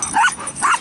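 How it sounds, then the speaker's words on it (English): A dog gives two quick high yipping barks in an open field, close and fairly loud, with no talking over them. "Crazy dog."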